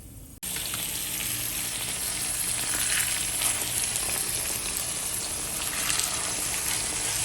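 Beef cutlets sizzle in a hot pan, a loud, dense and continuous frying hiss that starts abruptly and holds steady, with no talk over it.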